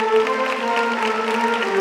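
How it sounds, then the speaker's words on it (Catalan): Arena crowd at a Valencia Fallas gala applauding, a steady broad wash of clapping mixed with sustained musical tones, loud and continuous. "Despedim amb un fort aplaudiment a la Cor d'Honor de la Fallera Major Infantil de València"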